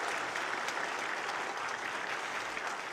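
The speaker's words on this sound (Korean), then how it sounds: "우리 한번 찬양대에게 감사의 박수하겠습니다" A church congregation applauds its choir during a Sunday worship service, an even, sustained patter of many hands clapping at moderate volume with no talk over it.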